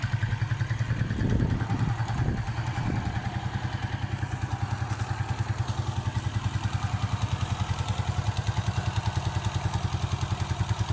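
A KTM 125 motorcycle engine idles with a steady, rapid putter, a few louder thumps and clatter early on, then an even single-cylinder rhythm continuing at close range.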